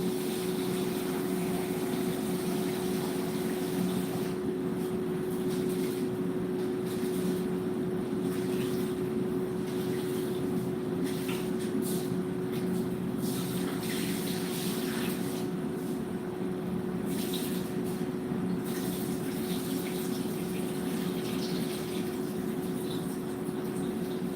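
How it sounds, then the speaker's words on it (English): Tap water runs steadily while rice is rinsed in a home kitchen, a continuous close rushing wash with a low hum underneath and no voices. "I'm going to rinse my rice for, a few times until the water starts to run clear."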